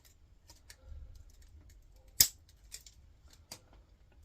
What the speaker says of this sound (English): take off the little plastic piece at the top, because that just gets in the way. Try and trim that back.